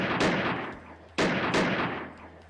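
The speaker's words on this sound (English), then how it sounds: "Not only him, but all his other soldiers continued to shoot at me relentlessly" Soldiers in the Piofiore video game fire their guns in two sharp, loud shots with a sudden attack. Each blast leaves a long echoing tail that fades out in the space between the two. Nobody speaks.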